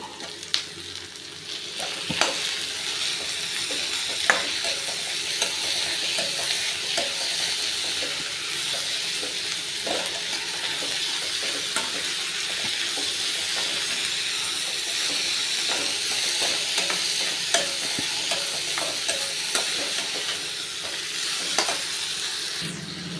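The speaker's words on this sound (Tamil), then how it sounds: "ஓரளவு வதக்கிக்கலாம்" Chopped cabbage and tomato sautéing in a pan for vegetable upma, a continuous sizzle with occasional scraping stirs and light clinks, close and steady throughout.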